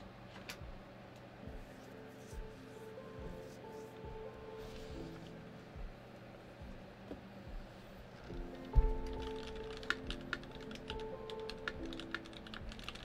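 Steady clatter of keystrokes on an unlubed mechanical keyboard sitting on a bare desk with no mat during a typing test, fast and continuous, close and moderately quiet, with no talking.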